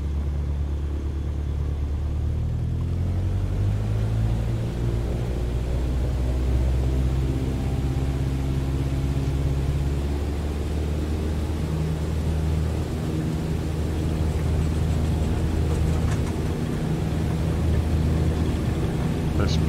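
A Cessna C152 light single-engine airplane in Microsoft Flight Simulator during its takeoff roll, a steady droning propeller engine with layered low harmonic hum held evenly throughout at close range.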